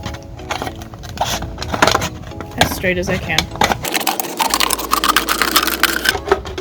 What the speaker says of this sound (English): and then just go around it with the scissors